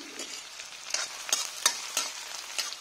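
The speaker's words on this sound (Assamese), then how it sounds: "এইখিনি এতিয়া অকণমান সময় ভাজি ল'ম।" Sliced onion and a dried red chili frying in ghee, a close, steady sizzle broken by regular spatula stirring scrapes roughly every third of a second.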